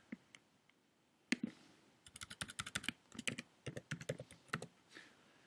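Keys clatter on a computer keyboard as a search term is typed, a few isolated taps followed by a quick burst of rapid, crisp keystrokes, close and fairly quiet, without any talking.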